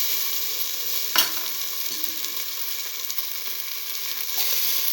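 Tomato pieces fry and get stirred in a pan for a mint potato stew, a steady close sizzle with a brief louder scrape near the start and no talk.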